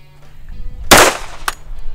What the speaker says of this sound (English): We'll shoot this 45 and do it.